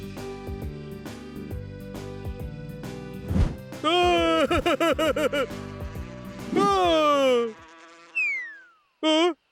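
Cartoon bees, angry and swarming, give off a loud electronic buzzing in rising and falling swoops, broken up by short pauses and interrupted by cartoon voices and effects.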